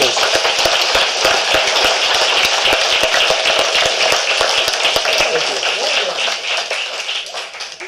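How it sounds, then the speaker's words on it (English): A crowd applauds at a Boy Scout Eagle Court of Honor ceremony, with dense, sustained clapping that holds steady before gradually tapering off toward the end. "let's give her another round of applause"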